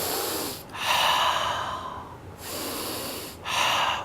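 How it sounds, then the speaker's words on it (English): Slow, deep breathing through the nose during a mindfulness practice: two long airy inhales and exhales, close and steady, each breath separated by a brief pause. "the sound in our nose, which is the sound of our breath"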